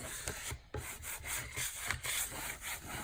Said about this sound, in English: you're going to scrape it down to your board